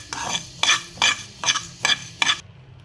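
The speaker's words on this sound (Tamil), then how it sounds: "இப்போ மல்லியும் அதே மாதிரி வறுத்துக்கலாம்." Dry coriander seeds are stirred in a hot pan with a spoon, giving six evenly spaced scraping, rattling strokes up close, each a crisp sizzling swish with no talk.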